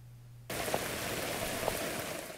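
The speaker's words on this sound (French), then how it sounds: "La pluie finit tomber de manière persistante" Persistent rain falling in a steady, even hiss that starts abruptly and continues throughout, with a few faint drip taps audible within the wash of sound.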